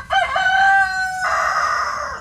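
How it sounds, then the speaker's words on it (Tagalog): A single rooster crows once, close and clear, in a drawn-out call lasting about two seconds, with no voices. "mga manok lang ang maririnig"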